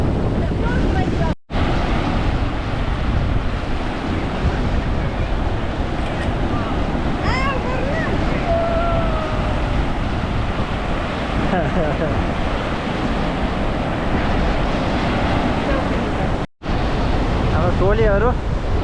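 Ocean surf and gusting wind at Palm Beach in Sydney, a steady broadband roar of breaking waves with wind buffeting the microphone, continuous and loud, with a faint boat-like hum and brief distant voices.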